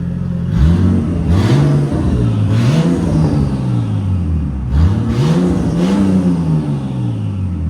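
A 1999 Nissan Skyline R34 with a 2.6L twin-turbo engine and straight-pipe exhaust, resonator removed, revs loudly in a series of rising and falling blips close by, with no talking.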